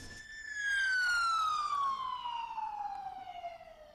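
Emergency vehicle siren from police cars and ambulances attending an incident at a supermarket, a single descending wail sweeping downward, moderately near over faint street background.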